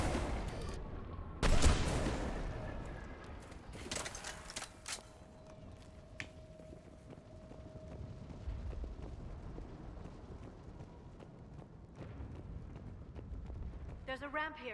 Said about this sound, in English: Missile Launcher, very effective.